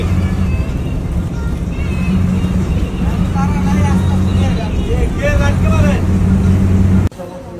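A bus on a long road journey to Sajek speeds along with a continuous loud engine roar and road rumble, passengers' voices and chatter audible over it, before the noise suddenly drops near the end.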